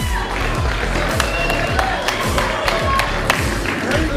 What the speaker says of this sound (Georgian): ბიჭებმა ნახეთ დაიმსახურეს აპლოდისმენტები.